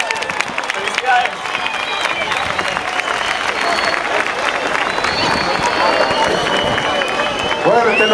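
A crowd at a Paraguayan bicentennial folk performance gives the artists a loud, sustained round of applause and cheering, with voices shouting through the clapping.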